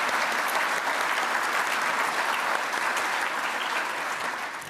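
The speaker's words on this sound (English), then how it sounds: "So please, one more round of applause for everyone who serves the city of Boston." Sustained applause from a large audience at a Greater Boston Chamber of Commerce address, a steady dense wash of clapping that holds evenly for several seconds before easing slightly at the end.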